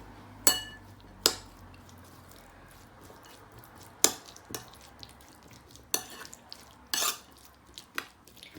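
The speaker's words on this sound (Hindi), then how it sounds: "एक स्मूथ सा पेस्ट रेडी करेंगे। इसको अच्छे से मिक्स करेंगे।" A spoon works a smooth mayonnaise paste in a bowl for an American-style veg sandwich, sending out sharp, sparse clinks against the dish at irregular intervals with soft mixing sounds between, close and quiet, no talk.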